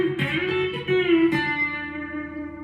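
A B-bender electric guitar plays a variation on a country riff in D, with ringing sustained notes, a couple of plucked attacks and a bent pitch that fades out at the end.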